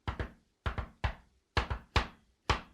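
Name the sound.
knocking imitating a special knock on a pub window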